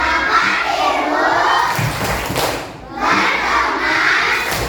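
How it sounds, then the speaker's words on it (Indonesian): Schoolchildren in a classroom chanting the tepuk pulang clapping routine together, loud massed young voices with rhythmic claps and thuds, a short pause midway before the chant resumes. "yuk 3, 2, 1, tepuk pulang"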